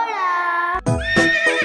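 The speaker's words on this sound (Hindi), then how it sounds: "घ से घोड़ा।" A horse neighs loudly and close, a long wavering whinny followed by shorter snorting neighs, in a children's Hindi alphabet song setting.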